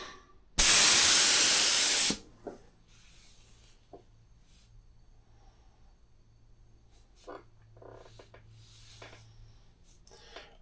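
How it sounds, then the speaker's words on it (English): Short hissing burst of an airbrush spraying paint on a custom helmet, powered by a very small air compressor: one loud spray of about a second and a half, followed by quiet handling clicks and faint shuffling. "I got a very small air compressor, so it takes ages"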